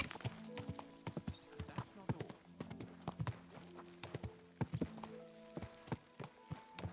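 Horse hooves clip-clop in the video game Kingdom Come Deliverance 2, a steady, close, uneven trot of sharp hoof strikes with occasional softer background sounds.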